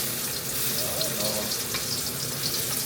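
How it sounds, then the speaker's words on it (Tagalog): Garlic sautéing in a hot pan, a steady broadband frying sizzle that runs continuously and close at even loudness throughout, with no voices. "So, gigisa muna natin yung bawang."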